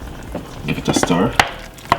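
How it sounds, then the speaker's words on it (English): Chicken stew being stirred in a pot after ketchup and sweet chili sauce go in, with soft squishy scrapes and a couple of sharp utensil knocks against the pot over two seconds. "Give it a stir."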